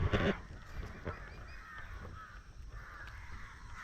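A faint crow caws over quiet early-morning outdoor ambience among coconut palms, with a few scattered calls after it.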